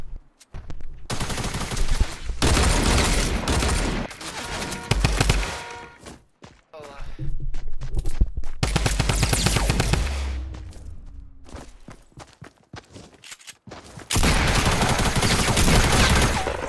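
Loud sustained bursts of automatic gunfire alternate with short pauses and single cracks in a Fortnite match, close and heavy, with occasional talk between volleys.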